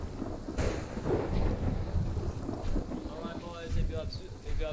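Thunder rumbles through a stormy video game island battle, low rolling booms mixed with rain and wind noise, with people talking over it.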